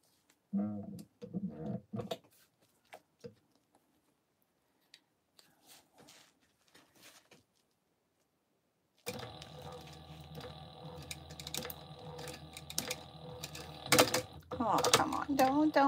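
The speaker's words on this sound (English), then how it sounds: "now we're just going to top stitch that" A sewing machine top-stitching fabric, preceded by a few quiet handling clicks, then running steadily with rapid mechanical stitching for the last several seconds.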